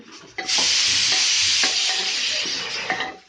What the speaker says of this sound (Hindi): और इसे हम थोड़ा सा भून लेंगे जब तक ये ब्राउन ना हो।